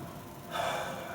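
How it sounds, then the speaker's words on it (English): A single deep breath drawn in, soft and close, a brief airy rush that swells for under a second as part of a calming routine before tennis play. "Just breathe deep."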